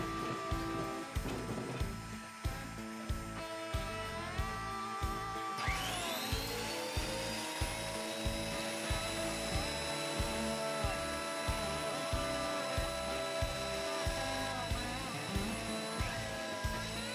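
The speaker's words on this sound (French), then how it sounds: "on rabote notre amarante pour descendre à 24." A hand plane or machine planer working amaranth wood boards meant for a guitar top and back, a loud continuous whining drone with regular rhythmic pulses throughout, heard close with no talk.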